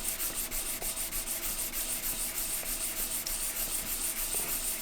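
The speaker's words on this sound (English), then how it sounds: "I'm gonna rub some paint into the letters and the number" Steady close-up rubbing or light sanding on a small Acoustic Research AR speaker badge as paint is worked into its raised letters and number, a continuous scratchy friction with faint repeated strokes and no talk.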